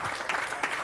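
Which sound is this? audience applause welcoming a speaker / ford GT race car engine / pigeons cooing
audience applause welcoming a speaker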